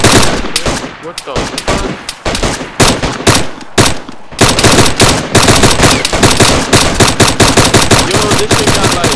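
Rapid video game gunfire from an M200 sniper rifle and other weapons, dense bursts and repeated sharp shots running loud and nearly continuous, with a brief exclaimed voice over the shooting.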